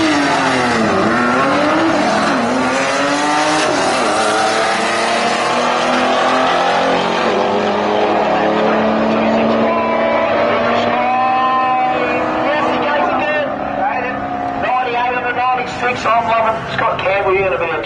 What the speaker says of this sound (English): Love a bit of gear jamming action. Racing with a clutch pedal.